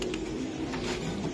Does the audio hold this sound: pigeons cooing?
yes